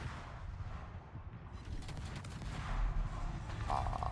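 In the naval game Azur Lane, torpedo hits land during battle as a continuous stream of rumbling, booming impacts. A heavier, louder burst of explosions follows toward the end.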